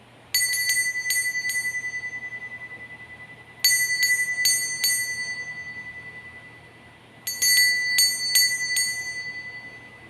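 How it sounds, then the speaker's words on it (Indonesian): A small bell struck in three separate bursts of quick, bright rings, each burst fading before the next, clear and alone over a low steady hum. "Kita akan memulai dengan ditandai lonceng berbunyi."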